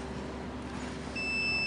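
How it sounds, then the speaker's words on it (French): Electronic buzzer set under a bell jar, switching on partway through with a steady high-pitched tone over a humming, noisy background. "je vais mettre ici le buzzer sous la cloche"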